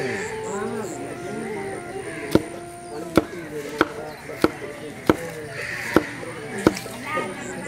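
Coconut husk fibre beaten with sharp, regular thwacks to make it pliable for rope making in India, about eight evenly spaced knocks under ambient chatter and birdsong.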